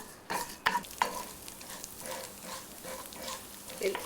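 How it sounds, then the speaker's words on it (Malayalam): A tempering of chana dal, urad dal and mustard seeds frying in oil, with a soft sizzle and a few sharp clinks of a spoon against the pan early on, then quieter stirring. "തൈര് സാധനത്തിന് കടു വറുക്കുന്നത് ആദ്യം കടലപ്പരിപ്പ് പിന്നെ ഉഴുന്ന് പിന്നെ കടുക്"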